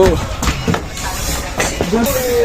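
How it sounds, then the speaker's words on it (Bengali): A train pulls into a station with a loud rumble, hiss and clatter of cars close by, while people talk over the noise on the busy platform. "ফাইনালি ভাই ট্রেন ঢুকে গেছে চলো ভেতরে যাওয়া যাক"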